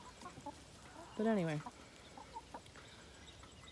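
Chickens behind a fence give one clear, close cluck-like call midway, with faint softer clucks scattered around it, in quiet outdoor surroundings while a person speaks briefly.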